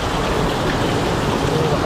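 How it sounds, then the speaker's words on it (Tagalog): Heavy rain pouring down in a steady, dense roar close by, with a low rumble underneath, constant throughout with no one speaking. "Ang lakas ng ulan."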